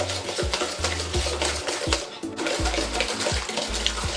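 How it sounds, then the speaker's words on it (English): Bonbon sirop batter being mixed by hand in a bowl, a steady run of wet, rhythmic stirring strokes with light scraping, close and continuous with no talk. "You're gonna want to keep mixing this until it is well combined and looking creamy."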